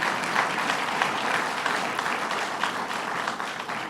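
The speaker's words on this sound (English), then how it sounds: "Let's give him a round of applause" Audience applause at a government construction announcement, a dense, steady burst of clapping from a crowd that holds for several seconds and tapers slightly near the end.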